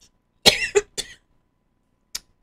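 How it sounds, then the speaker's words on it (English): An elderly woman coughs in a quick cluster of three dry, close coughs, then a single softer cough follows after a short silence. "oh, excuse me, had a cough there."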